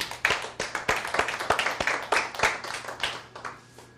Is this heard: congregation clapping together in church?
yes